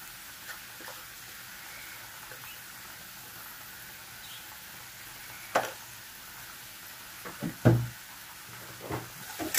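Ground cumin and turmeric fry in a pan with a faint steady sizzle, broken by a few louder scrapes and knocks as a spoon stirs the spice paste.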